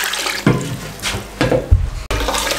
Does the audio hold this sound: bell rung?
no